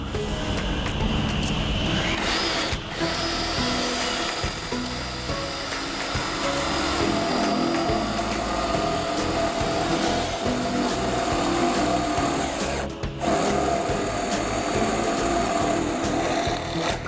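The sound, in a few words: drilling the bung hole of a wooden barrel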